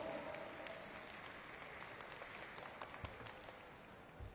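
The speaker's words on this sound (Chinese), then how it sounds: "热情的掌声送给他们" Audience applause in a hall during a ballroom dance competition, the Taiwan Star dance open: steady, dense clapping at moderate distance that holds evenly throughout, with a few louder individual claps standing out.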